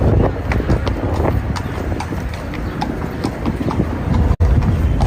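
Horses' hooves clip-clop over pavement in a park, a busy, uneven run of close, loud hoofbeats from several animals, with a noisy outdoor bustle underneath.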